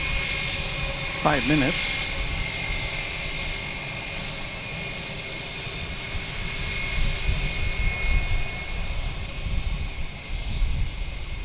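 A jet airliner at DFW Airport, a steady, broad engine roar with a constant high whine, heard from a distance under a man's brief speech.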